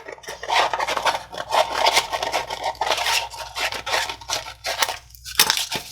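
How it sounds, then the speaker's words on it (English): A small handheld vinyl trimmer slicing through a sheet of vinyl wrap for a tumbler, making close, repeated rasping scrapes in quick irregular strokes with no talking. "I'm going to go through with my little vinyl trimmer"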